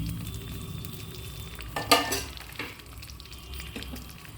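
Chopped green chillies sizzle in oil in a pan with a soft steady fry, broken by a few louder bursts of crackle and scraping stirs midway.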